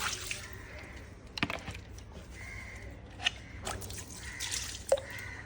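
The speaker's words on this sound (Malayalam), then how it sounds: "ജസ്റ്റ് ഒന്ന് കാലൊന്ന് കഴുകിയിട്ട് കയറാം" Water splashing and dripping as feet are washed outside a mosque on Lakshadweep, a soft intermittent trickle with a few sharper splashes, close and fairly quiet.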